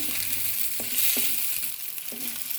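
Chopped okra fries on a low flame for bende saaru. It gives a soft, steady sizzle with a few light spatula taps against the pan, close by and without talk.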